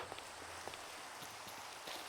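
Rain falls steadily in the video game Minecraft, a soft, even hiss with scattered small patters. It stays faint and continuous, with no voices.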